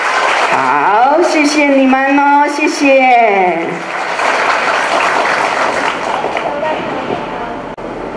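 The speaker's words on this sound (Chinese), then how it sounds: "我们就给我们的工作团队们一个很热烈的掌声" Warm applause for the staff at a kindergarten graduation ceremony in a hall, steady clapping from a crowd lasting several seconds, while a speaker talks over a microphone at the start.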